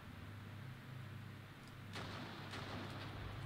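A tank main gun fires in the Armored Brigade war game with a Czechoslovak/Netherlands main battle tank. The shot is a faint, dull report that rises abruptly midway over low rumbling background noise, followed by a brief second thump.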